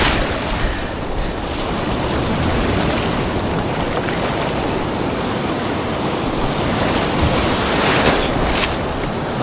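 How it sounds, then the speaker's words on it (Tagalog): Large ocean waves crash and surge in a continuous loud roar of surf, with heavy wind buffeting the microphone and occasional bursts of spray rising out of the wash. "sinalubong agad tayo ng mga malalaking alon"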